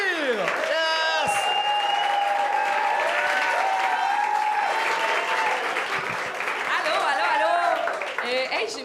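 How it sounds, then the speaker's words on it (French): Applause and cheering from a game show studio audience, loud and sustained, with voices and shouts mixed in throughout. "Faites un tonnerre d'applaudissements pour Magali Cyr!"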